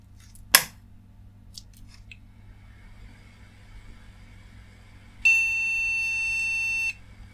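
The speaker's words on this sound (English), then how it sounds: "Continuous bleeping." A retro motherboard with DDR RAM fitted gives a continuous POST error beep, one steady high-pitched electronic tone lasting about two seconds, after a brief click.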